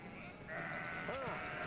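Rams bleating among livestock being loaded, one clear wavering bleat rising near the end over a background of steady low noise and faint voices.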